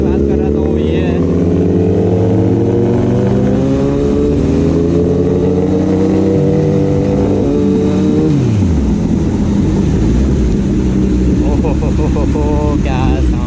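A Kawasaki ZX10R motorcycle revs hard on a Mumbai street, its exhaust roaring loud and close with rising and falling engine pitch that drops away and then climbs again.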